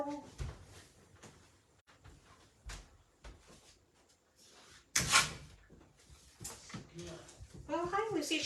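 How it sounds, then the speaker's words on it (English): An indoor door is shut with a sharp knock partway through, after scattered softer knocks and handling noises, while a person talks nearby. "I just shut the door so you don't have to listen to me."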